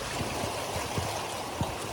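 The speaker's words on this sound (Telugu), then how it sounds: "ఇప్పుడు మనకి వాటర్ ఫ్లో అవుతా కనపడేది" Irrigation water rushing steadily through canal locks at a bridge, a dense continuous churning flow heard close and alone, with faint gurgling pulses.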